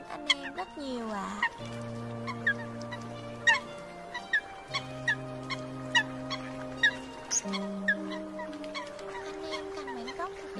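A recorded Eurasian coot call, played as a hunting lure, gives repeated loud nasal honking notes in a steady series of sustained tones with sharper clicks between them.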